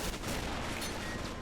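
Heavy artillery booms in a WWII winter-campaign video game set on the Soviet front, a dense, continuous wash of distant gunfire and explosions rumbling together without a break.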